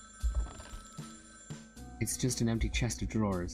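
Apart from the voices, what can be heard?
telephone ringing in a video game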